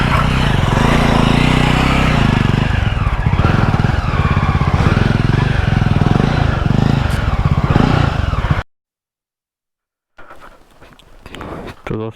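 A motorcycle powers along an extremely rough off-road jungle trail on the way to a waterfall, its engine loud and close, rumbling steadily for about eight seconds before cutting out; after a gap, faint rustling and movement follow.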